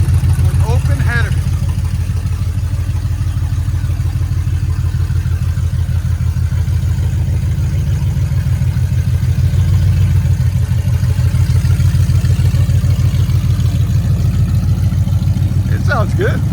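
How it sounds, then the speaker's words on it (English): Supercharged 5.4L V8 in a 2000 Ford Lightning idling with open headers and a Borla ATAK exhaust, a steady loud low rumble with a lopey pulse running throughout, with brief faint voices near the start and end. "that's what it sounds like with open headers"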